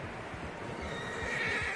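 Several horses neigh and whinny in Red Dead Redemption 2, a rising whinny standing out near the end over a steady bed of game ambience and faint hoof clip-clop, with no talking.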